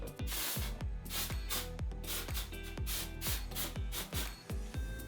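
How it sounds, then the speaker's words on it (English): Kevin Murphy dry powder finishing hairspray sprayed onto a man's grown-out hair from about 18 inches away, a dense close hiss of repeated bursts with sharp onsets and brief pauses. "I'll hit it with a little bit of this Kevin Murphy dry powder finishing hairspray, just from like maybe 18 inches"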